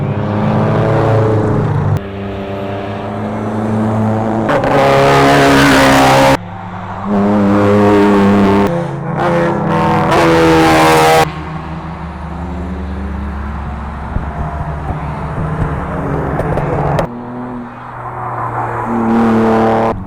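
Performance cars from the 1970s to 1990s climb a hill at a driving event. Loud engines rev and roar in repeated bursts as each car accelerates past, some passes closer and harsher than others, with no speech over them.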